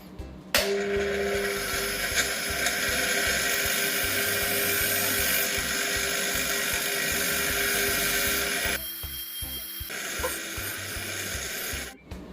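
A grinding wheel sharpening a tungsten TIG welding rod spins with a loud, steady high whine and hiss. It drops in tone partway through, pauses briefly, then resumes before stopping abruptly.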